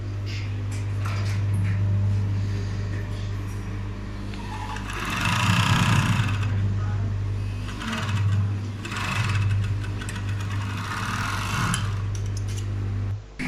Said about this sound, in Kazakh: Жапсырып тігу үшін біз мына ұшын, шетін торлаймыз